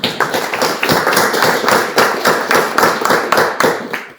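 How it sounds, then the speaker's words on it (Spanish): Guests applauded at a FIHNEC chapter meeting: a small group clapping in bursts of distinct, close claps with slight rhythmic surges, fairly loud and without talk. "Les damos un fuerte aplauso"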